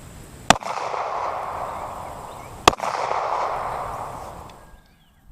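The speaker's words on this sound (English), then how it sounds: "135 grain jacketed hollow point up against our 1-inch thick slab of polyurea. Put my ears in, and we'll put these down range." Two 9mm 135-grain jacketed hollow point handgun rounds fired into a 1-inch-thick polyurea slab: sharp, loud cracks about two seconds apart, each trailing into a long ringing outdoor decay, with no talking.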